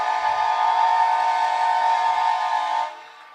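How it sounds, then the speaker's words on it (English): A loud, sustained train horn blasts at a high school football game at halftime, one steady chord-like tone holding for nearly three seconds before cutting off, with no talk over it. "get the train horn going."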